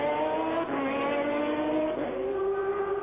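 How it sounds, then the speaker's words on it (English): A BMW race car at Le Mans in 1999 screams through the Ford chicanes, its engine a loud, continuous high-pitched whine that dips and climbs as it brakes and accelerates between corners. "This is the BMW number 15, Winkelhock, Martini and Dalmas, running through the Ford chicanes"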